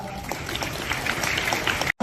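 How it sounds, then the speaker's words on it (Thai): An audience claps for a team at a youth football event, a brief burst of scattered applause mixed with voices that cuts off abruptly at the end. "ก็ปรบมือกับทีมงานอีกครั้งหนึ่งครับ"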